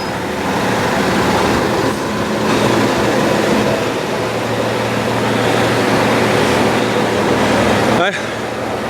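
A train rolls through Mexborough station, a loud, continuous rumble and rush filling the whole stretch, close by, with a steady low hum and a sudden drop-off near the end.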